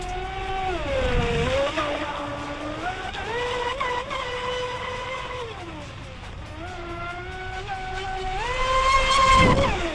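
A small high-revving RC speedboat motor whines steadily, its pitch sliding up and down as it speeds across water, loud and close throughout.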